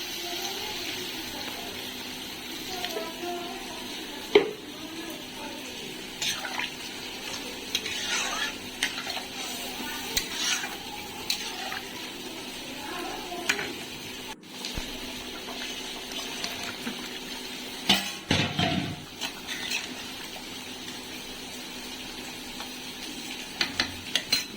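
Cooked spice masala in a pan is stirred after water is added, producing a soft, quiet sizzle with intermittent scraping and clinking of the spoon against the pan.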